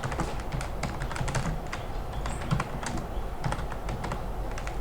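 Rapid typing on a computer keyboard while building an app in Thunkable, a dense, close run of irregular key clicks continuing steadily with no voice.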